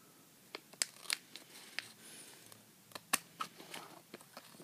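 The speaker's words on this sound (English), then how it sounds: "Got some scissors here." Irregular crisp snips and crackles of scissors cutting open a Lego Minifigures pack, a dozen or so sharp bursts spread unevenly over a quiet background.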